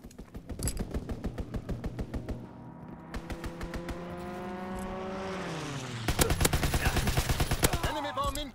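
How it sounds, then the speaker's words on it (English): Video game strafing run: rapid bursts of heavy gunfire crackle close and loud, interleaved with a rising and falling engine roar as an aircraft sweeps past, then a dense final volley. "Enemy strafing run inbound."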